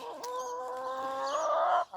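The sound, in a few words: chickens clucking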